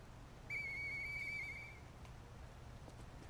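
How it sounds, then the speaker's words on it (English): A whistle blown once in the video game Lies of P, a single clear, steady high tone lasting just over a second over a low background hum, then fading out. "What if I blow the whistle again?"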